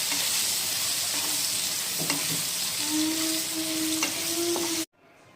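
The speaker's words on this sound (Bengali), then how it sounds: "আমাদের আলু ভাজা হয়ে গেছে" Potatoes fry in a wok with a loud, continuous close sizzle and bubbling, broken by a few scraping stirs, before cutting off abruptly near the end.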